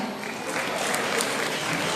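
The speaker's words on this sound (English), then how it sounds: "Let us give these people a round of applause." Steady, dense applause from an audience at a senior high school commencement ceremony fills the hall, loud and continuous for a couple of seconds.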